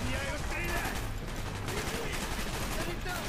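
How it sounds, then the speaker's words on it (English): Dense automatic gunfire from a VP-25 in the Black Ops campaign, firing in rapid overlapping bursts with battle noise, continuous and loud throughout. "At least this looks like a VP-25 that I'm shooting."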